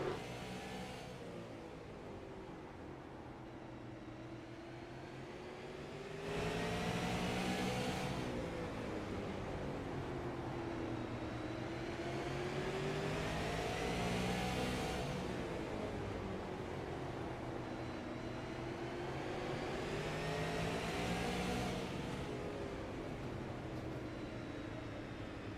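A race car engine at Lanier Speedway drones from inside the cockpit, loud and steady. Its pitch rises and falls in long cycles as the car works through laps on the oval, with wind noise underneath.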